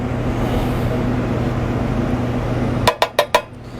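A utensil stirs and spreads food in a pan while a Thanksgiving feast is cooked, under a steady low hum, ending in four quick, sharp clinks and scrapes against the pan in close succession.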